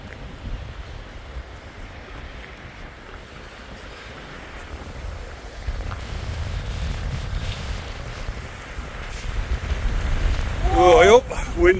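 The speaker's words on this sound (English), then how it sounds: "Wind's getting up there." Wind gusts across the highest point of a forest trail, a broad rushing roar that builds toward the end, with brief voices rising over it near the close.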